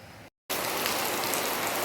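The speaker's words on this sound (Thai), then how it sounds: "ฝนถล่มจริง ๆนะครับ วันนี้ หนักมากเลย" Heavy rain pours down in a dense, steady roar on a morning in Phatthalung, southern Thailand, briefly cutting out for a split second before resuming just as loud.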